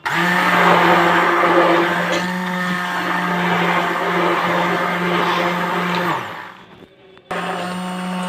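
An electric mixer whirs steadily as it beats milk and oil into homemade butter, a continuous close motor drone that dips and briefly cuts out near the end before starting again.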